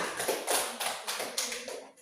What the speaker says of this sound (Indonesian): Tepuk tangan untuk Rema untuk kelompok praktika.